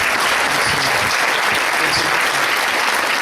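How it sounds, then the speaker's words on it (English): Fundraiser audience applause fills the room, loud dense clapping held evenly from start to finish. "So give yourselves another round of applause."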